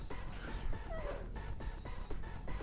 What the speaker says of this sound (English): Dog scouting happening all over the map.